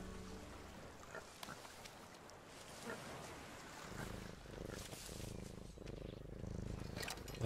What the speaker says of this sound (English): That's Kevin purring.